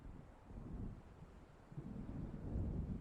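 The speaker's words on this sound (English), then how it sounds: "It seems there's a storm coming." Storm in Alan Wake, with low rumbling thunder and gusting wind swelling and fading twice, fairly quiet and distant with no talking.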